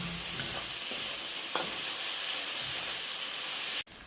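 Mixed vegetables sizzle and hiss steadily in a hot pan, with a couple of scraping stirs from a spatula and a sharp knock near the end.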